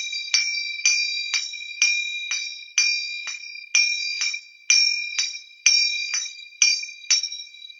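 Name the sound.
finger cymbals (zills) played with alternating hands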